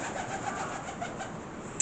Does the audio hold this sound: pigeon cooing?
yes